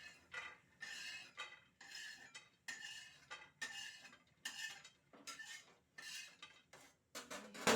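Roasted peanuts being scooped out of a pan, heard as a regular series of rattling, scraping sweeps of a utensil across dry metal, each about half a second long with short gaps between them, fairly close and not loud; no talking.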